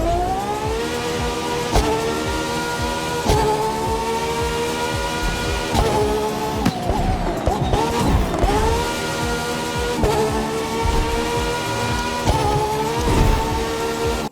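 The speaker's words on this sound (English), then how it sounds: "This is the engine sound of the Gordon Murray T50 from the Crew 2." Gordon Murray T50 in The Crew 2 as a racing game car, its engine holding a steady high-revving tone with rising and falling pitch through shifts, loud and continuous with no talk over it.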